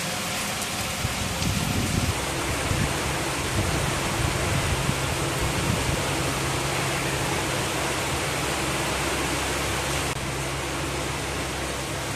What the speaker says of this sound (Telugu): మేఘాలు కమ్ముకొని వర్షం పడుతోంది.